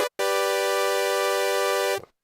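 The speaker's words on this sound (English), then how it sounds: "a sawtooth starting with a down ramp to an up ramp, it sounds like this." A loud, sustained buzzy sawtooth tone from an Arturia Pigments software synthesizer, rich and bright, holding steady for about two seconds after a brief blip, then cutting off.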